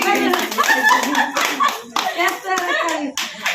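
People clapping along to devotional group singing at a Hanuman temple consecration, rhythmic hand claps near and loud, mixed with voices singing throughout.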